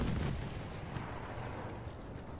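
Heavy rumbling blasts from a tank shell striking during a Battlefield 1 World War I battle, loud and continuous with booming low-end impacts and crackling debris filling the whole stretch.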